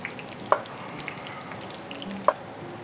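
Scallions, ginger and garlic fry in oil in a pan for Chinese tomato and egg stir-fry, a steady soft sizzle with a few sharp pops and spatula clinks.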